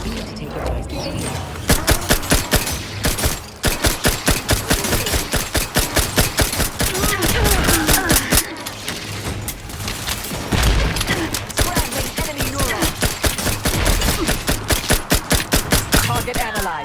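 Rapid machine-gun fire in the sci-fi shooter The Outer Worlds 2, long dense bursts of sharp repeated shots lasting almost throughout, loud and close, with brief pauses and faint voices underneath.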